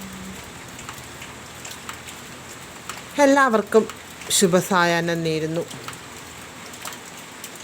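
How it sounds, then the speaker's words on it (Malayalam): Rain falling steadily in the evening, a constant soft patter that continues throughout while a voice speaks briefly partway through. "മഴ അങ്ങനെ പെയ്തുകൊണ്ടേയിരിക്കുകയാണ്"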